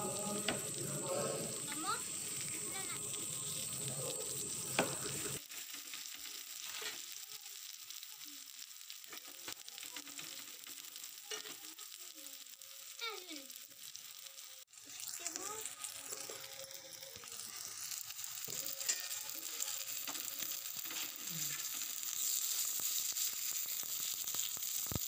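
Food sizzles steadily in hot oil in a home kitchen pan as a spiced fried dish cooks, a constant crackling hiss throughout, with a person talking over it at times.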